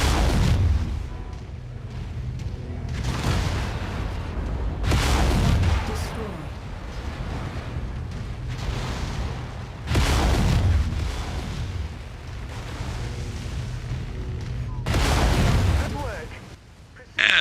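Tanks blowing up in the video game MechWarrior 5 produce loud, booming explosions about every five seconds. Each blast is followed by a crackling, rumbling tail under the game's background noise.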